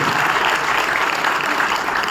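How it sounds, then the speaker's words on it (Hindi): A big crowd at a network marketing convention in Shimla breaks into loud, dense applause, a continuous wash of clapping with no pauses. "मैं चाहता हूं कि एक जोरदार ताली आप सभी हमारे लीडर्स के लिए और अपने सभी साथियों के लिए जोरदार तालियों से सम्मान करें"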